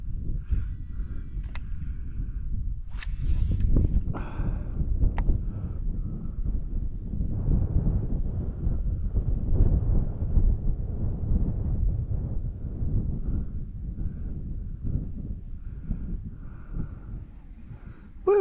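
Steady wind buffeting a microphone on a fishing boat while barramundi fishing in northern Queensland, a continuous low rumble with a few brief clicks and knocks, no talking.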